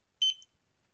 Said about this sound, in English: Apologize for the loud beep.